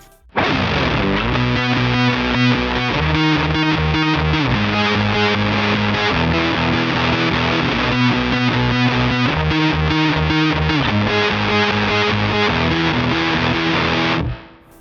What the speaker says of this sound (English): It's like kind of like a guitar synth part that comes in towards the later part of the song.